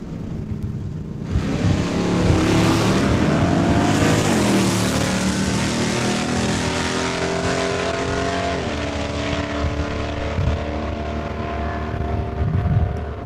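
An '86 Mustang and a camper special truck launch side by side at a drag strip in Saskatchewan, engines roaring loud and steady with rising revs as they pull away, a sustained dense engine blare throughout.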